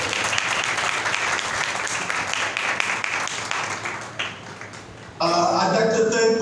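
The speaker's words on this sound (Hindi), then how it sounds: "आए जोरदार तालियों से खुदा के नाम को" A congregation at a church service claps loudly and steadily for about five seconds, the dense applause then giving way to a voice speaking over the room.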